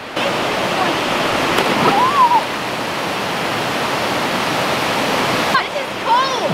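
Creek water pouring over a dam makes a loud, constant rushing roar, with a few brief bird chirps above it.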